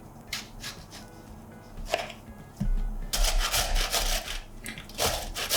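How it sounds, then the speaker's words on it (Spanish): Garlic being crushed and finely chopped on a cutting board, with irregular close knocks and scraping strokes that grow into a busier, louder run of rapid chopping. "El ajo lo vamos a machacar y dejar muy fino."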